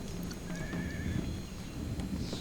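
A horse whinnies in a rising-and-falling neigh amid clip-clopping hooves and battlefield ambience in the video game Empire Total War, played in rainy weather, with soft tapping textures around it.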